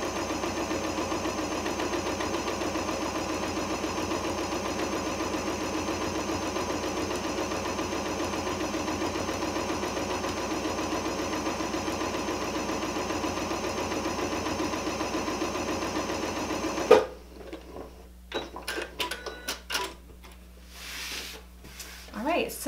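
A sewing machine hums in one long continuous run while stitching through three layers of fabric for selvage fabric, close and steady, then cuts out and leaves scattered handling noises and a soft voice.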